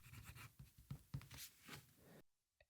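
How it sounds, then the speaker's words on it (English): A Kaweco Liliput fountain pen with a steel broad nib scratching across paper, with quick close strokes and short pauses in an irregular rhythm, faint and alone, then stopping into near silence. "let's do a little bit of a writing sample so you can see how it writes"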